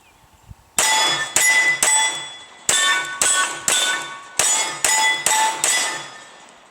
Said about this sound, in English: But for now, we'll keep trying to ring that steel.